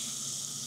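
Butter melting in a hot pan for a Steak Diane sauce gives a steady, even sizzle and hiss, close and unbroken for a brief moment.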